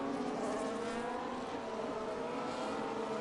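Ferrari Formula 1 cars in a racing video game roar at high revs in a steady, loud, continuous engine drone with no voices over it.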